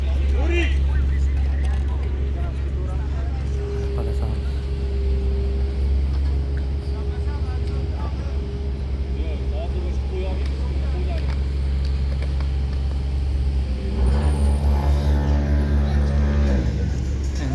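A car engine drones steadily close by for most of the stretch, swelling louder near the end as a vehicle passes, with a faint voice underneath.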